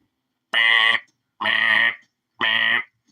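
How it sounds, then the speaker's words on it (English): A building's fire alarm speaker blares three harsh, loud electronic bursts, evenly spaced about a second apart, each lasting roughly half a second, with silence between them. "It's weird fire alarm also. It blares fire over the speaker every 10 seconds or so."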